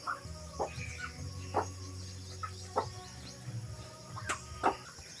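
Pet chickens cluck in short, scattered bursts while being fed outdoors, with a faint chirr of crickets and insects behind them.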